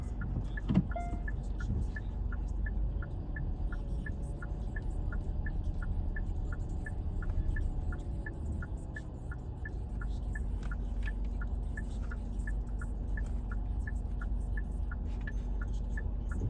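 A car idles close by with a steady low engine hum while a turn-signal clicks in a regular, even rhythm, after another car has come up from behind and stopped; no voices are heard.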